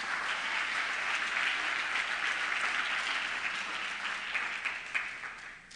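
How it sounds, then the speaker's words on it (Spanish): A church congregation applauds together during a Spanish-language sermon, a dense and sustained wash of clapping that stays fairly even and starts to thin near the end, with no voices on top. "aplauda al Señor con fuerza."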